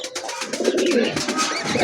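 A breeding pair of pigeons coos steadily and close by, with overlapping low, throaty calls that continue without a break.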